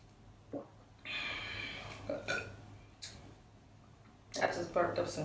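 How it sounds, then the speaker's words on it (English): Several throaty burps from someone drinking master cleanse lemonade, the first long and drawn out, then shorter ones with breathing and gulping sounds in between, all close and fairly loud. "I just burped up some nasty shit."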